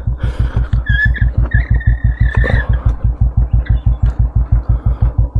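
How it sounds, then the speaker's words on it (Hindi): A car engine started earlier idles before a dawn ride out of Goa, a loud, close, rapid and even thumping pulse with brief whining tones rising over it. "सो गाड़ी ना मैंने पहले स्टार्ट करके रखी थी।"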